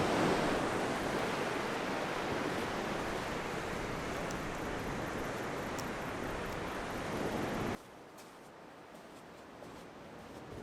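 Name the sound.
ocean waves at low tide, Secret Beach, Mallacoota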